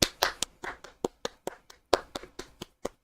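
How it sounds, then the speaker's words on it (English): A few hands clap in irregular, separated bursts, close and fairly quiet, during a live online talk show; no one speaks over it. "we owe this man a round of applause for this comment"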